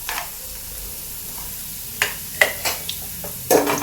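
Cashews and raisins fry in a pan with browning onions, a soft sizzle beneath a few sharp clicks and scrapes from stirring, close by and fairly quiet.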